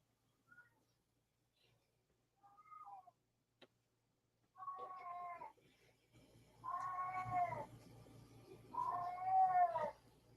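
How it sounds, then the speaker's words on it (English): A house cat meows repeatedly as if wanting to be let outside, starting with faint short calls and building to long, loud drawn-out wails near the end, with no talk over them. "Is that your cat, Paul?"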